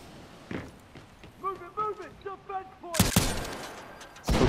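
A gun in Titanfall 2 fires several loud close bursts toward the end. Before that, someone speaks in quick clipped phrases over faint game background.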